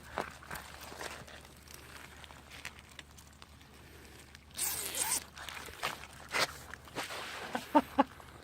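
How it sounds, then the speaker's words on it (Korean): A zipper rasps open in a couple of quick pulls, close and crisp, followed by soft rustling and light handling noises. "지퍼 좀 열어줘봐."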